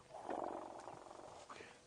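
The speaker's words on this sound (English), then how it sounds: "So elephants can talk to each other. They use very low rumble." Elephants on a safari drive give a low, throaty rumbling call, moderately close and steady for a moment before easing off.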